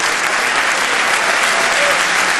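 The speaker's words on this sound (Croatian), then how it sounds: "Još jedan aplauz za gospodina Borisa" Sustained, dense audience applause filling a hall after a lecture at a technology show, loud and even throughout with no pauses.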